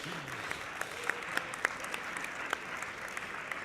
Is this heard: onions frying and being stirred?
no